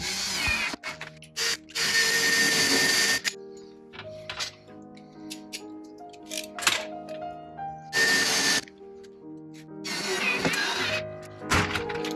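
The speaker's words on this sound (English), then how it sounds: "let's try it with a new drill bit" Power drill boring holes for a curtain rail inside a VW campervan, several separate bursts of whirring drilling with quiet pauses and small clunks between them, close up.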